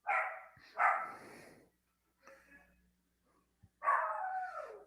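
A dog barks indoors in loud, close bursts, a few sharp barks near the start and a longer run at the end, with quieter sounds in between.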